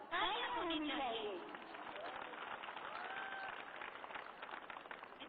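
Audience applause at a public event launching a free tablet and smartphone distribution for students, a burst of clapping that swells at first and then fades, with a voice speaking over the start.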